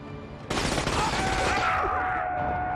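Police open fire in the game The Darkness, a sudden loud burst of rapid gunfire that breaks in abruptly and keeps rattling close by as a dense volley, with a ringing tone trailing underneath.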